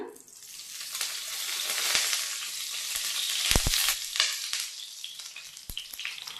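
Oil sizzling on a hot tawa while a quick breakfast is cooked, a loud, close, continuous hiss with scattered pops and a few sharp taps.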